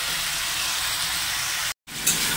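Vegetable curry with masala frying in a pan, a steady close sizzle and hiss throughout, cut by a brief silent gap near the end before the frying resumes.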